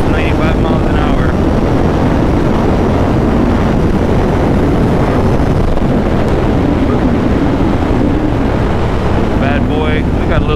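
A motorcycle ridden at about 95 miles per hour through turns roars loudly and continuously, its engine noise merged with heavy wind rush throughout, while a rider's voice comes through faintly.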